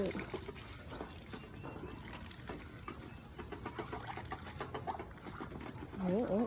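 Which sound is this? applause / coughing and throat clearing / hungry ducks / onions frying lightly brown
hungry ducks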